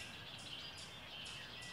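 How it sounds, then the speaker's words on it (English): Outdoors, just past a door, a flock of birds chirps and calls in repeated high bursts over steady background noise, fairly faint overall and with no voices. "There are birds"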